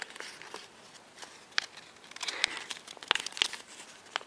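Origami paper being folded into a boomerang gives soft, close crinkling and rustling with scattered sharper creasing snaps, growing busier toward the end, with no speech.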